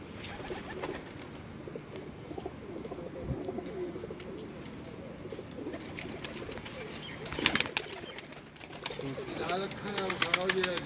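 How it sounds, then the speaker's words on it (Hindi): Teddy pigeons cooing on a rooftop, soft low coos repeating amid chirps and ambient outdoor noise, fairly faint, with a brief louder burst of activity partway through. "टैडी कबूतरों का मैं शो करवा रहा हूँ"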